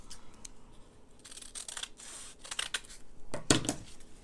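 Scissors snip paper scraps for a junk journal in a few short, crisp cuts, close and fairly quiet, with faint rustling of paper between them.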